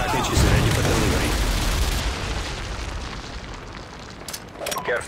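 A Predator missile strike in the video game Modern Warfare 2 lands as a loud, deep boom that opens the clip and then fades into a long, rumbling, crackling tail with a few sharper pops near the end.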